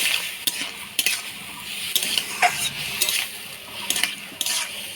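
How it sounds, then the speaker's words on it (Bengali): A spoon stirs turmeric and salt into black gram lentil dal cooking with mango and cherry tomatoes in a pot, giving repeated scraping clinks roughly once a second over a faint sizzle, close and clear. "হলুদ লবণ দিয়ে ভালো করে নাড়াচাড়া করে নিলাম"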